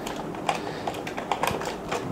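Computer keyboard typing while an email marketing button is set up, a run of light, irregular key taps at moderate level with no voices.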